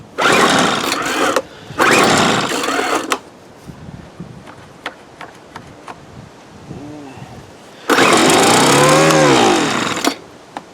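A 1997 Weed Eater BV 1800 24cc leaf blower engine roars loud and close in three bursts, cutting out between them while someone talks during the quieter gaps.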